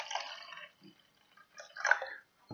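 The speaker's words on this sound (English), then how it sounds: "We'll just fill that up with some water" Water, already slightly heated, is poured into a beaker for a homemade magnetic stirrer hotplate: two short, close splashing, trickling bursts with a quiet pause between them.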